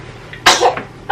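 A single sharp sneeze, brief and close, followed by a short breathy sound in a quiet room with a heater running.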